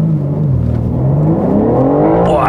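BMW M4 G82 with a manual gearbox accelerating, its engine note droning low then climbing steadily in pitch as revs rise, loud and close from inside the car.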